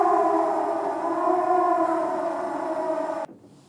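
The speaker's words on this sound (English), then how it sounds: "Let's go ahead and play the siren." A civil defense style siren in the video game Season: A Letter to the Future, played as one sustained wailing tone that holds steadily, then cuts off abruptly near the end.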